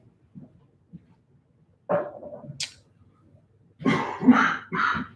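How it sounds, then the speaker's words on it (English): Loud coughing from a person recovering from bladder surgery, a few short isolated bursts at first, then a cluster of harsh, close coughs toward the end. "I'm gonna step away so I can do some loud coughing."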